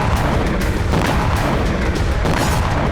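Heavy, continuous rumbling blasts from bombing attacks on residential areas of Belgorod, a dense, loud barrage of booms with sharp bursts recurring throughout, no voices.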